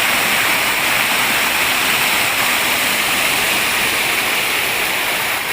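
A forest waterfall roars loud and close, a dense, unbroken rush of falling water that stays steady throughout with no voices.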